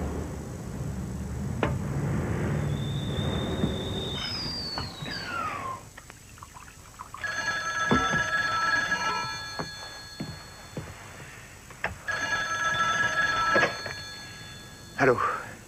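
A telephone rings in a dramatic film scene, with repeated electronic ring bursts in the second half, separated by short pauses, over room noise and scattered clatter after a stretch of talk.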